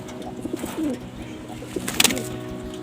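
Pigeons of an old bloodline pair, a cock and a hen, coo softly in repeated low, throaty phrases close by, with a brief sharper chirp and rustle partway through.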